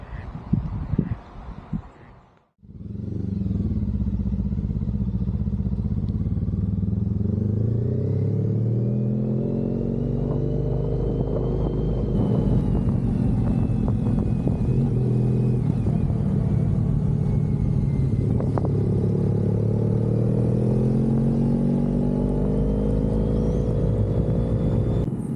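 A motorcycle engine starts up after a short roadside stop and pulls away, its steady rumbling drone rising in pitch as the bike accelerates, loud and close throughout with no talk.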